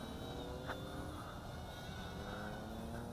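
A JXD T503 triphibious toy drone takes off at full throttle in a running takeoff, its small motors giving a faint, steady buzzing whine that holds throughout with no talk.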